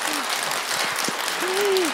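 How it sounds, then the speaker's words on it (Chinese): Audience at a university Q&A session applauding to thank a Khenpo, a steady wash of clapping with brief speaking voices at the start and end. "我们再以热烈的掌声感谢堪布"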